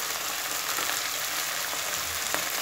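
Broccoli sizzles and fries steadily in a hot pan with turmeric, a dense, even crackle close up throughout, with no talking.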